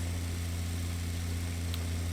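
Fertilizer tractor engine idling in the farming video game Pure Farming 2018, a steady low droning hum with strong even tones, constant and unbroken.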